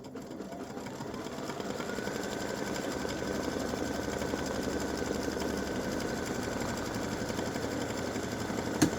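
An embroidery machine runs steadily while stitching an appliqué design on fabric, a continuous mechanical whir with a fast repetitive hum that stays even and fairly close throughout, with no talking.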